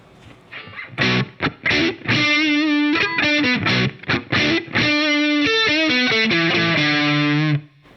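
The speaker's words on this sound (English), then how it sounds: "Let's hear some low gain sounds on the DS-1." Low-gain crunch from an electric guitar through a Keeley Angry Orange in DS-1 mode: a loud run of short picked notes and chords, a few gaps, ending on a held note that cuts off.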